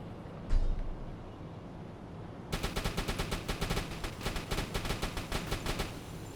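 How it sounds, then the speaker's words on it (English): Anti-aircraft gunners on a U-boat in the UBOAT game open fire after a brief quiet stretch, sending out a rapid, steady string of loud, sharp shots that continues for several seconds. "I can hear the dings as these gunners are firing"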